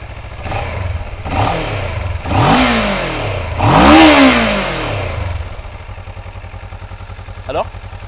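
Motorcycle engine cranking and firing up, then revved several times in loud rising-and-falling bursts before settling into a rough, throbbing idle close by.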